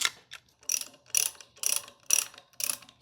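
A 16 mm socket ratchet loosens a bolt while a cheap 6-inch golf cart lift is being installed, giving five rapid clicking bursts in a steady rhythm, close and clear with no talking.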